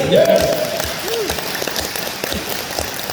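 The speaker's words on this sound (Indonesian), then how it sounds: "Oke, tepuk tangan lagi" A crowd at a talk show at Vila PLN Bedugul claps again on cue, a dense, moderately loud patter that holds steady throughout with a brief voice near the start.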